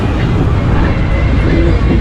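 Steady, loud rumble of a moving train on the island of Zante, a continuous broadband roar of wheels and carriage noise with wind, filling the whole stretch without a break.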